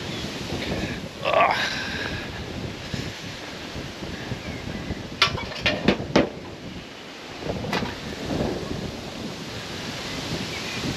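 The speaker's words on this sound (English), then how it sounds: "Typical, the wind is absolutely atrocious today." Strong outdoor wind roars steadily and buffets the microphone in heavy gusts, with a few brief knocks partway through.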